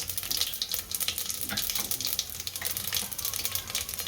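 Cumin seeds and asafoetida sizzle loudly in hot oil for khichdi, a dense, close, continuous crackle with fluctuating bursts of spitting and stirring throughout.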